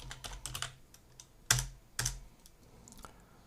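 Typing on a computer keyboard during a 3D software tutorial: a few quiet, close key clicks in an irregular run, with sharper isolated presses like a tab key standing out, no voices.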